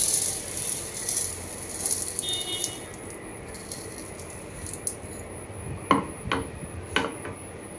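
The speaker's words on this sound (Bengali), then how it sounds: "মসুর ডালটাও ধুয়ে নিব।" Red lentils (masoor dal) being rinsed in water in a pot, a soft rattling swish of grains that grows into a few sharper clinks and splashes of lentils against the pot near the end.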